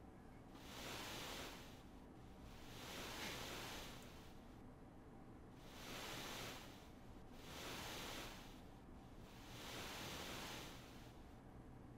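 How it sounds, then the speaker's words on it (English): Quiet ocean ambience from Final Fantasy VI on the GBA, set in the Thamasa area: soft, steady surf noise swells and recedes in slow waves, with no music. "No music, just quiet ocean noise."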